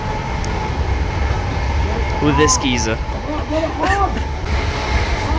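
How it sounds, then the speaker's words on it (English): An empty late-night train out of Liverpool rumbles steadily in the background while people talk loudly over it. "So here we are on a train from Liverpool at 11 p.m."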